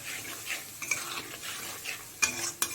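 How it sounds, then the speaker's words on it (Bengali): Spice paste for koi fish curry sautéed with a splash of water in a pan, a steady soft sizzle broken by scraping stir strokes and a couple of sharper clinks of the spoon against the pan near the end. "একটু জল দিয়ে মশলাটাকে ভালো করে কষিয়ে নেব।"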